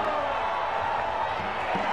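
Stadium crowd at a college football game between Montana State and Eastern Washington, roaring loudly and steadily throughout.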